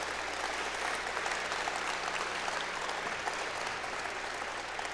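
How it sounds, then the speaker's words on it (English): An audience at an aviation hall of fame induction ceremony applauds the color guard, a full, even round of many hands clapping that holds steadily throughout. "How about a big round of applause for that awesome color guard?"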